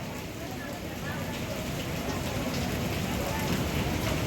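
Monsoon rain pours steadily at the Ganpatipule temple, a dense, unbroken hiss that holds at an even level throughout.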